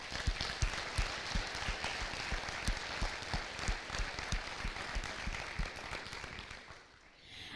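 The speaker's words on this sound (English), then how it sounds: "So if we could give Mr. Pudence a round of applause" Banquet audience at an FFA chapter event applauding in a steady, dense wash of clapping that holds for about seven seconds, then thins out and fades near the end.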